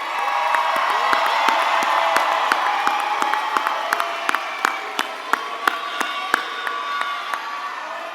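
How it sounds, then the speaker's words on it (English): Loud applause and cheering from a large crowd in a graduation arena for the 2025 Dr. Benjamin Elijah Mays High School graduates, with whoops and sharp claps popping through a steady roar that carries on for several seconds. "Let's give the 2025 Benjamin Elijah Mays, Dr. Benjamin Elijah Mays graduates another loud round of applause."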